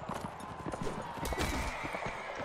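A horse in the medieval combat game Mount&Blade Warband, with steady rapid hoof clip-clops and a whinny amid busy battle noise, close and moderately loud.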